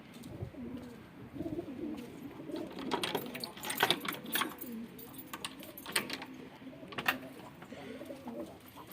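Pigeons coo inside a coop, close and repeated, with soft overlapping throaty calls and the odd flutter or rustle throughout.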